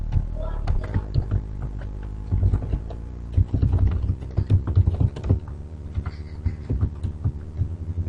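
Fingers type code on a computer keyboard, a close, rapid patter of uneven key clacks in quick clusters, running under a voice talking quietly.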